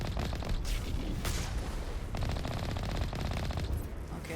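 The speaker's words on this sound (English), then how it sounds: "They're just shooting me." Sustained automatic gunfire from enemies in the Mass Effect video game, rapid bursts of shots rattling continuously and loudly for several seconds with no pause.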